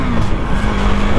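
A KTM Duke 390 Gen 3 motorcycle roars loud and close as the rider pulls a small wheelie, the engine drone blending with heavy wind rush in one continuous burst.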